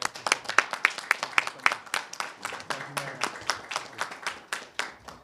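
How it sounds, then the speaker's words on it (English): A few people at a congressional press event clap for a congressman, sparse, distinct and fairly close hand claps in an uneven rhythm that thin out over about five seconds. "So please, a round of applause to our own Congressman Josh Gottheimer."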